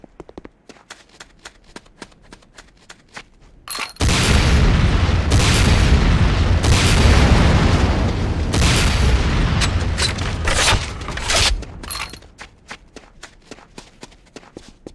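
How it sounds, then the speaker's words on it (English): Rocket launcher in C&C: Renegade firing at training targets, a loud sustained roar of blasts and whooshes after a stretch of clicking footsteps, then fading back to light steps. "Next up is the Sakoze 66mm type R12 Locust automatic rocket launcher"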